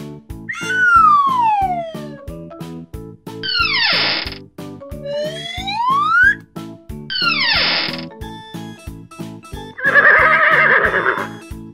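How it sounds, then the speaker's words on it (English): A cartoon horse in a children's animal-sounds nursery rhyme gives several loud, close whinnies, shrill rising and falling calls over a bouncy musical backing with other sliding, siren-like cartoon cries. "Horse."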